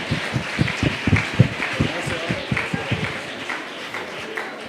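Audience at a school Sant Jordi prize ceremony applauds in a hall, a rhythmic run of moderately loud claps over a murmuring room, with voices talking throughout.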